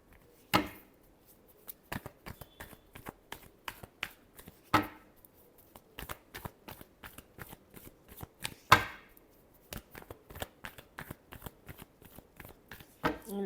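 A deck of tarot cards is shuffled in quick riffling bursts, a few sharp louder flutters among many soft rapid clicks, close and clear with no voices.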